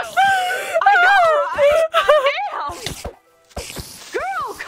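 A woman lets out several high, wavering screams and frightened wails in quick bursts, loud and close, mixed with some talk and a brief silent gap.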